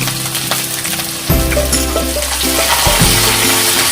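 Chopped onions and curry leaves fry in a pan with a steady, loud sizzle that runs throughout, bright and close, and a brief stir or shift in the pan partway through.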